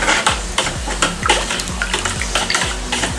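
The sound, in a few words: mixing salt into water in buckets for saltwater tank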